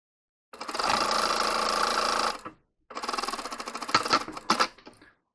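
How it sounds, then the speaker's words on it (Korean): A close sewing machine stitches a garment's shoulder seam with a half-inch allowance in two steady whirring runs of about two seconds each, separated by a short pause. The second run ends with a few uneven clunks. "먼저 어깨 한번 박아 볼게요."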